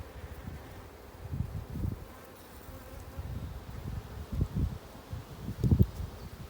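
Low, uneven buzzing of many honeybees close by during a hive inspection of a swarm, swelling and fading in waves over a faint airy background, with no talking.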